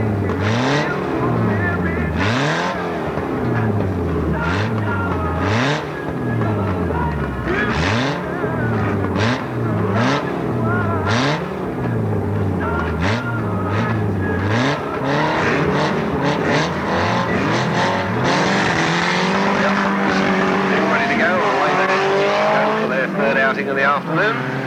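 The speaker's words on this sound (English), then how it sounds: "So Chris Butler then going round on his lap of honour rather rapidly as he did through his races." A race car lapping Alwalton Raceway in 1983 on a fast lap of honour, its engine loud and close, revving and shifting in repeated rising sweeps, with an announcer talking over it.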